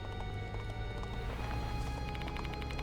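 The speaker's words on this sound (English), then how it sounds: "It sounded like the clop of a horse's gallop." Horse hooves clop at a gallop in the game Death Mark 2, a quick rhythmic run of hoof beats under a steady low background rumble that grows busier toward the end.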